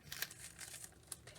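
A sheet of paper handled and crinkled at a craft table, soft close rustling with a few sharper crackles.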